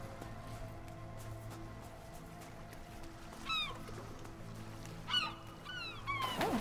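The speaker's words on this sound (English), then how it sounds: "All the seagulls." Seagulls calling in the Rime video game, a few short honking cries in scattered bursts over a low ambient hum, moderately close.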